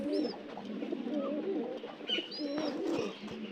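Pigeons coo softly in repeated low phrases from a breeding pair sitting on eggs in a loft, close by and fairly quiet, with faint background noise.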